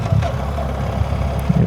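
A 2025 BMW R 1300 GS Adventure motorcycle, ridden in fourth gear, rolls off the throttle, its engine a steady low rumble under wind noise without a clear rise or fall.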